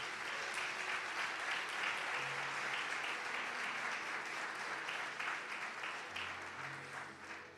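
A church congregation applauds during a worship service: dense, sustained clapping from many hands, steady and fairly loud throughout, easing slightly toward the end, with a faint low hum beneath.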